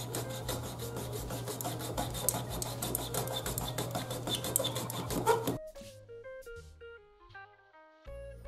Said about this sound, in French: Voilà, une petite scie, on y va tout doucement.